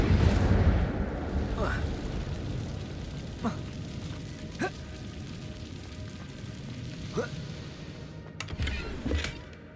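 A few brief whooshing fire bursts from an Incendio spell in Hogwarts Legacy flare up over a dull, rumbling game ambience, spaced several seconds apart and moderately loud.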